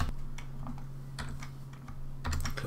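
Keys clatter on a computer keyboard in quick irregular bursts, close and alone over a steady low electrical hum.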